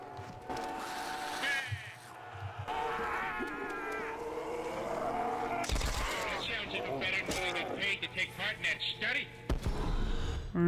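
Gunfire in a Family Guy–themed Call of Duty Zombies custom map, shots crackling amid game sounds and effects, with people talking throughout and a rapid run of bursts toward the end.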